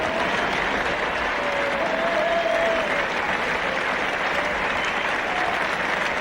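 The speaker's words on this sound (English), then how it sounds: "The crowd on the feet, they'll probably clap him all the way to the wicket." A cricket crowd at a 1977 England v Australia Test match at Trent Bridge stands and applauds a local batsman walking out to bat, a dense, loud and continuous roar of clapping.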